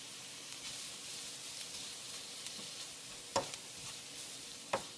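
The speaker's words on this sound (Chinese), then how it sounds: "改成中火炒制，把牛肉馅炒散" Beef mince and diced onion stir-fried in a pan over medium heat, a steady soft sizzle with a few sharp spatula scrapes and clacks.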